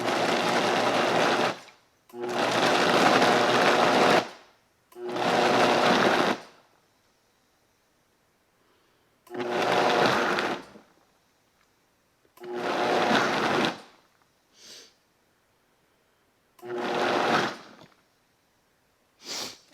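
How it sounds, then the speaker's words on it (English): A blender chopping vegetables for potato soup in repeated loud pulses, about seven whirring bursts of one to two seconds each separated by silent pauses, with a couple of shorter blips near the end. "you are going to pulse this about 5 or 6 times until the vegetables are nice and chopped"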